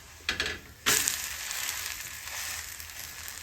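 Besan chila, a gram-flour pancake, sizzles steadily in hot oil in a pan just after being flipped, with a couple of soft knocks and then a sharp burst of frying that settles into a continuous hiss.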